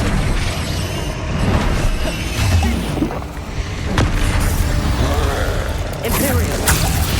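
Flipendo knockback spells and other magic fire in combat in Hogwarts Legacy, giving loud bursts, whooshes and thuds in quick succession over dense battle noise, with voices shouting over the fight.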